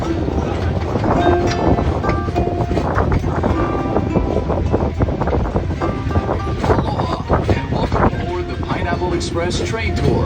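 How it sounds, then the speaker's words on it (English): Open-air tourist train on a two-mile ride through a working pineapple plantation on Oahu rumbles and clatters steadily along the rails, with wind buffeting and someone narrating over it throughout. "This 2-mile, 22-minute train ride will take you through a working plantation"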